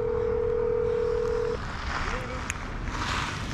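Steady single-pitch dial tone from a phone call being placed, loud and continuous for about a second and a half before cutting off, leaving outdoor wind and background noise.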